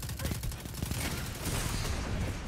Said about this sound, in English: I'm literally spraying him with an auto, man